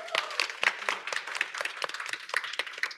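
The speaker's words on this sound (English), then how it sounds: "So can we give them a big round of applause?" An audience claps at a talk on imposter syndrome; the applause is scattered and moderately sized, with sharp individual claps in a steady patter for a few seconds.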